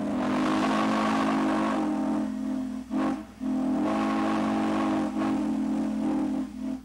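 A loud, sustained steam whistle blows in long steady blasts with brief breaks between them, over the low rumble of a locomotive engine.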